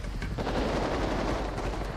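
Gunfire in a GTA 5 roleplay match crackles as a rapid burst of shots, dense and continuous like automatic fire, loud for about two seconds with no talking.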